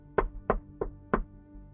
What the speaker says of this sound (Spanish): les tocan varias veces en la puerta.